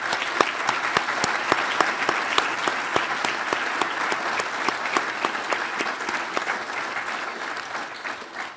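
Steady applause from a ceremony crowd aboard a Navy ballistic missile submarine change of command, honoring a family; dense clapping with sharp individual claps standing out, sustained throughout and tapering at the end.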